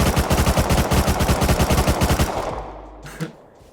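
An MP5 firing in the game Rust Console Edition: a loud, close, rapid automatic burst of evenly spaced shots for about two and a half seconds, then stopping abruptly with a short fading tail.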